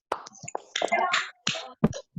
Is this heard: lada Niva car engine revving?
no